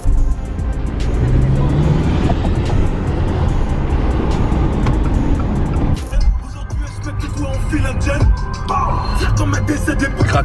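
A car is driven out of a home garage, its engine rumbling close and loud. The tone and texture change partway through as it moves out into the open.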